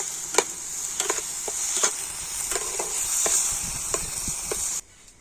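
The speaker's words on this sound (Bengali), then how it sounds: "আর এবার আমি গাজরটা ঘিয়ের সাথে একটু ভালো করে নাড়াচাড়া করে নেব।" Grated carrots frying in ghee as a spoon stirs them. A bright, steady sizzle carries regular scraping taps, then cuts off abruptly near the end.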